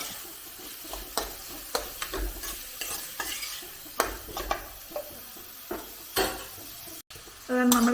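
Sliced onions sautéing in a pan for Kerala egg masala: a soft, steady sizzle with repeated scraping clinks of a spoon stirring against the metal.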